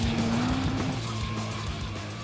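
A car drifts with its tires squealing in a long, steady screech over a continuous engine roar, heard during a car-show semifinal.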